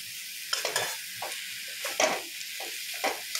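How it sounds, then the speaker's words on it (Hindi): Prawns and spices being stirred in a hot pan for a spicy jhinga posto dish, with a bright steady sizzle broken by repeated scraping stirs, close and loud and without talking. "इसे मिक्स कर देते हैं अच्छी तरह से, 1-2 मिनट चला के।"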